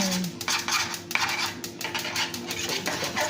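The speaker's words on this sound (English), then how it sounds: "whisk it around" Homemade southern-style gravy whisked briskly in a pan, a rapid, loud metallic clatter of the whisk striking the pan's sides in an uneven rhythm throughout.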